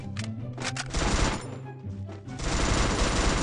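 Sustained automatic gunfire from the video game Free Fire, dense rapid bursts close and loud, with a brief lull midway before the shooting resumes strongly, no speech over it.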